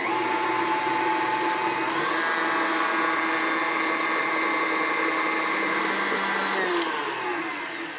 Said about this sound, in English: I'm going to give this one more mix just to completely combine those ingredients